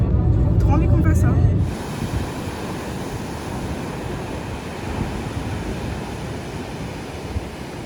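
Ocean waves surging onto a beach in Majorca, a steady broad wash of surf with wind noise on the microphone, loud and close, after a brief burst of louder sound at the start.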